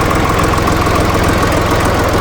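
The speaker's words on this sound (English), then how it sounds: "3-cylinder Dukes diesel." A 3-cylinder air-cooled Dukes diesel on a Ditch Witch 5010 idles close by, a loud, steady, even chugging throb with nothing else heard.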